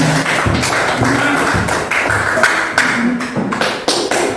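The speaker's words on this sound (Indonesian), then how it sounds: "Sekali lagi kita berikan aplaus untuk kelompok 1 dulu" An audience applauds a group after its presentation, a loud and close mass of claps packed tightly together that runs steadily for several seconds.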